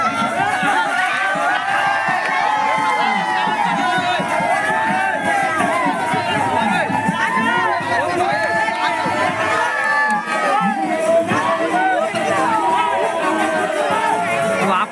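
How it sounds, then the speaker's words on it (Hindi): A large, noisy crowd at a village pot-breaking (matki phod) festival, with shouting, cheering and overlapping voices and children yelling, loud and continuous throughout. "बहुत ज़्यादा जोर शोर से भीड़ है।"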